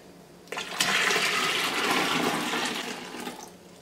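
Liquid pours steadily into a cooking pot of homemade laundry detergent on a stove, a sustained rushing splash starting abruptly after a half second and running close and even, with no talking.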